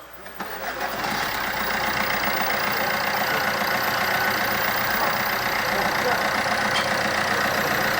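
A diesel Opel Corsa 1.3 CDTI with its EGR deleted cranks and catches after about a second, then settles into a loud, steady, close-up idle with a rough, knocking clatter.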